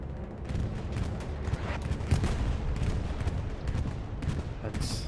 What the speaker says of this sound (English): Here comes the bombing run from Esprit de Corps.